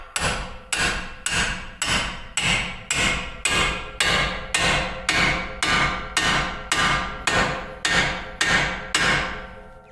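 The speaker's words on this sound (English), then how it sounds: "We're going to separate it with a pickle fork." A pickle fork is hammered to separate a ball joint on a Honda Odyssey A-arm, fifteen or so sharp metallic blows ringing out at an even pace, close and loud with no voices.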